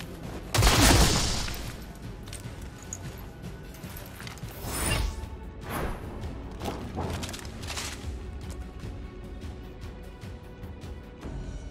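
Gunfire bursts in the XCOM Chimera Squad video game, a loud close volley at the start followed by scattered shots and clattering impacts, with a few quieter bursts trailing off and no talking.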